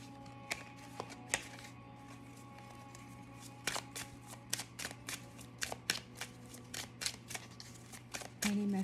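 Tarot cards shuffled by hand in a quiet room, a run of sharp riffling snaps and slaps in irregular bursts, close and fairly soft, with faint speech in the background.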